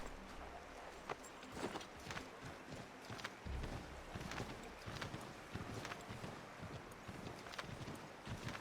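Horse hooves clip-clop in the Assassin's Creed III Remastered video game, a quiet, uneven run of hoofbeats mixed with soft rustling and low thumps, moving at a steady gait without any talk.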